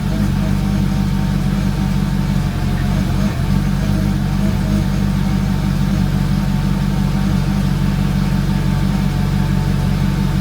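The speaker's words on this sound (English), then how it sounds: "I was kind of hunting for idle right there." Mercedes CLK55 AMG with its M113K engine idling close by, a steady low rumble that wavers slightly as it hunts for a stable idle, heard alone with no talking.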